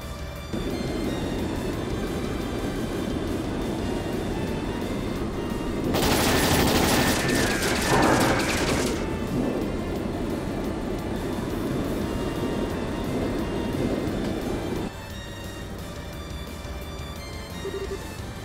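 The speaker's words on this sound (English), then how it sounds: "All ships, open fire!" Attack ships open fire in Trails in the Sky SC, a dense, loud volley lasting about three seconds that rises above a continuous low mechanical drone, which carries on after the firing stops.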